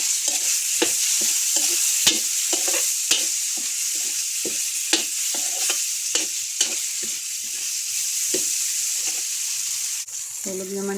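Ham sizzles in butter with onion and garlic in a pan, a steady close frying hiss broken by repeated rhythmic scrapes of stirring, with no talking.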